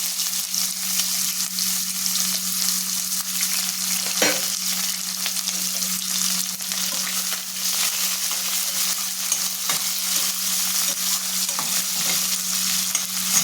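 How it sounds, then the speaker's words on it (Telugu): Thinly sliced onion sizzles steadily in hot oil for a cluster bean fry, with a constant loud hiss and occasional scrape of a spoon stirring the pan, no voices. "ఇప్పుడు ఒక ఉల్లిపాయ సన్న సన్నగా కట్ చేసి పెట్టుకున్నాను ఇది వేసేస్తున్నానండి"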